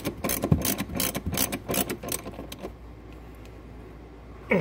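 Torx bolts being tightened on a sixth-generation Camaro seat during a seat cover install, close-up ratcheting and clicking in quick bursts for the first few seconds, then near quiet with one sharp click at the end.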